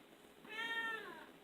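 A single drawn-out meow from a female cat, fairly faint and alone in a quiet room.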